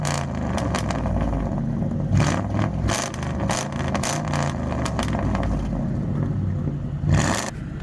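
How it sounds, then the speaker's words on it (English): A Ford Crown Victoria with a Poor Man's Muffler exhaust mod revs hard in repeated bursts, its throaty, raspy exhaust roar surging and dropping close by. "Give us some good revs."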